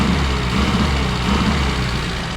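A Mini's engine idles steadily at close range while its coolant is being bled, a continuous low, even hum with no revving and no voices.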